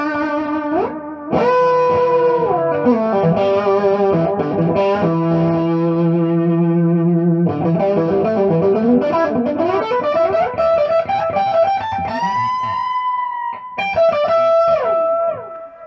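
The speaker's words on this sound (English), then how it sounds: "let's see how it sounds with a little bit of distortion in front" Distorted electric guitar through a TC Electronic Flashback X4 delay pedal plays sustained notes and bends, with echoing repeats trailing each phrase, loud and continuous.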